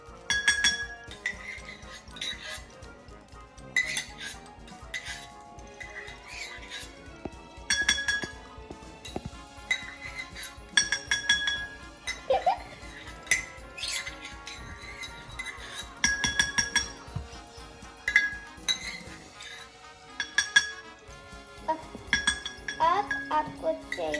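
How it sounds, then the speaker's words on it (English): A spoon clinks and taps against a glass bowl while homemade hand sanitizer ingredients are mixed, giving irregular bright chimes and scrapes at close range over faint background voices. "the first step is to mix the two into the bowl. You might need a spoon."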